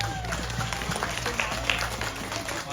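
An audience claps to welcome a Kamarat Samaki dance group performing Mak Theung at Wat Chas, a steady wash of applause with crowd noise, running alongside someone talking.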